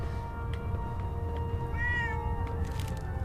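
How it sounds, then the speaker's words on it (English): A cat meows once, clear and mid-distance, in the Fallout 4 video game over a steady low hum of background ambience. "there's a putty cat"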